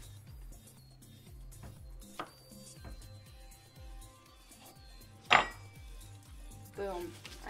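Knife cutting a tablespoon of salted butter for cookies on a board, soft faint taps and a rhythmic low knocking, with one sharper clack of a utensil partway through.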